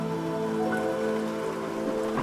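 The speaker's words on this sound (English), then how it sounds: "Rain poured from the heavens." Rain sound effect of water pouring down and pattering onto a surface, a dense steady downpour at moderate level, with a few faint tonal notes of background music underneath and no voices.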